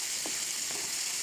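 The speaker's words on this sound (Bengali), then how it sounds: "1 চামচ পেঁয়াজ বাটা ও টমেটোর বাটা দিয়ে ভালো করে কষিয়ে নেব।" Onion and tomato paste masala sautéing in a pan with a splash of water, giving a steady, even sizzle with a couple of faint stirring scrapes and no speech.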